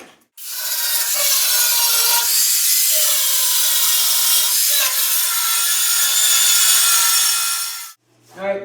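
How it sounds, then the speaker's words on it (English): A grinder smooths a welded patch on the underside of a Triumph Spitfire body under restoration, giving a loud, continuous abrasive whine that starts abruptly, holds for about seven seconds, then cuts off. "go around the periphery of it where you see all the crease, and then grind it smooth"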